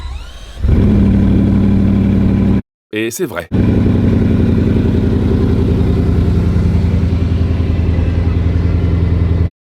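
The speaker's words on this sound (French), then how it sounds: "Alex nous a dit que cette voiture roule encore, même si le radiateur est cassé." A crashed Bugatti Chiron Pur Sport with a broken radiator starts and runs at a loud, steady idle, its engine cutting out briefly before firing again; someone speaks over it.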